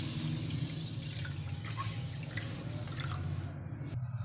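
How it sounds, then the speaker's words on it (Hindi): Water is poured into a small pot holding sugar, a steady liquid rush with light dripping over a low background hum, fairly close, cutting off near the end. "इसमें हम पानी डाल देंगे।"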